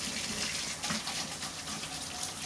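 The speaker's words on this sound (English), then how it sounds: "Let me wash my hands." Steady water runs from a tap while hands are washed, a continuous even splashing gush at close range with no talking.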